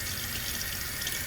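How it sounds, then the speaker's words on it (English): Water trickles at a low flow from a hose into a blue jelly shrimp tank during a reset, producing a steady, soft, continuous splashing hiss with no talking. "I got the water down to a trickle."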